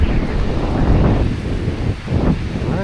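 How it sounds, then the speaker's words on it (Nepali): Strong wind buffets the microphone outdoors on a hike around Back Tor and Derwent Reservoir, loud, gusty rumbling that swells and dips throughout. "बतास चल्यो बतास चल्यो बतास"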